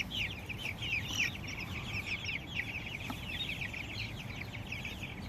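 Chickens cluck steadily in rapid, overlapping calls while being weighed on a small farm, moderately close with a low background rumble and no talk.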